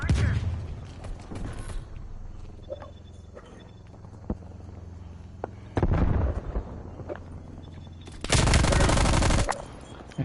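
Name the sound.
stun grenade thrown and exploding, from a video game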